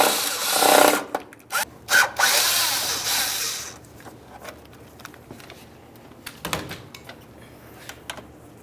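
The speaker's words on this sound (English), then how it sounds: "Let's use our 7mm to remove these." A 7mm wrench works the parking light mounting bolts on a 2000-2005 Buick LeSabre, giving a loud scraping, ratcheting rasp for the first few seconds, then quieter scattered clicks and taps of metal.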